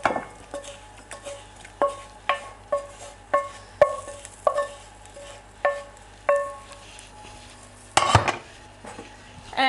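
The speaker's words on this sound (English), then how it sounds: "Now that the mushrooms have reduced down, I'm going to put them into my bowl" Cooked, reduced mushrooms are scraped from a pan into a mixing bowl, giving a run of sharp utensil taps and clinks on cookware, close and fairly regular, ending in a louder clatter.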